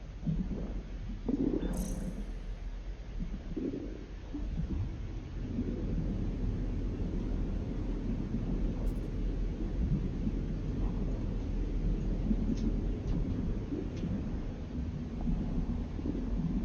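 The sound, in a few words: storm with thunder and wind in No Man's Sky video game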